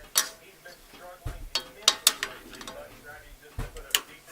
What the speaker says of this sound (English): Now I'm going to start putting the Velveeta chunks in.